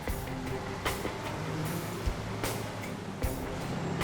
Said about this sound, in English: Running like an old truck does. Noisy and stinky.